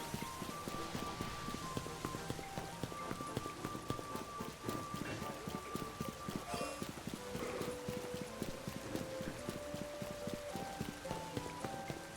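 Rain falling in a Pokémon video game, a steady dense patter with a rhythmic clip-clop-like beat running throughout, with a voice speaking over it.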